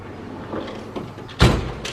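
A Snap-on toolbox drawer in a car workshop slides open with one quick metallic rush and rattle after a quieter stretch of background shop noise, followed by a faint second clack.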